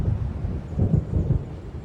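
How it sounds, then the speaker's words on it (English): Thunder from an approaching storm in the video game Alan Wake Remastered, a deep continuous rumble that swells and rolls briefly, loud and low without voices. "It seems there's a storm coming."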